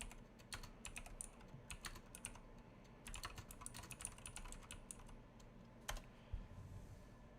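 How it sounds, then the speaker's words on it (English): Computer keyboard typing in quick uneven bursts of clicking keys with short pauses between, close but quiet, no voices. "My mic is in the way of my keyboard."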